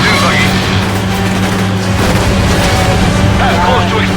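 Loud, continuous booming explosions roar amid vehicle engine noise in the stunt-driving video game Stuntman Ignition, dense and overwhelming throughout.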